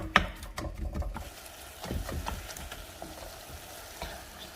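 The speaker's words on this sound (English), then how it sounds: "I'm just gonna break this apart and cook it with the seasonings and spices" Hamburger meat broken apart in a pan with seasonings and spices, quiet sizzling under a few scraping spatula strokes and soft knocks.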